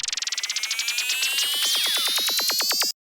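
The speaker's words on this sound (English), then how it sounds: "For the turnaround, I have a bunch of risers and lasers stacked." Stacked risers and laser effects in an electronic music remix turnaround: a rapid pulsing train of zaps that speeds up and sweeps upward over about three seconds, loud and synthetic, then cuts off abruptly.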